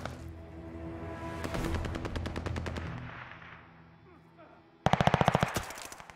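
Bursts of automatic gunfire in the shooter game Call of Duty: Vanguard, a rapid rattling volley swelling and fading, then a sudden loud close burst near the end, with no voices.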